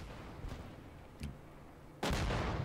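A Leopard 2A5 tank cannon fires in Armored Warfare: faint distant shots over a quiet rumble, then one loud, sharp cannon blast near the end.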